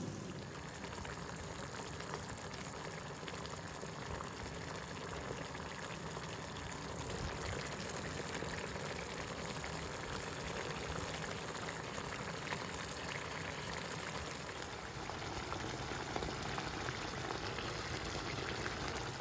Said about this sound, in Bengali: এখানে পেঁয়াজ ভেজে নিচ্ছি ছোলা ভুনা করার জন্য